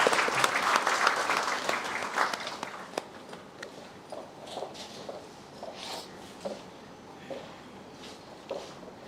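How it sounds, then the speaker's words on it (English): An audience at a research tour trophy ceremony claps loudly, and the applause thins into scattered, fading claps over several seconds. "really appreciate a big round of applause for all of you who are here"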